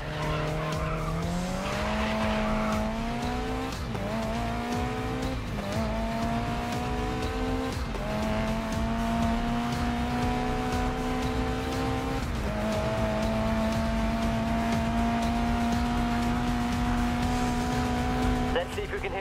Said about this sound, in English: with a touch of handbrake, I'd like to see you control the slide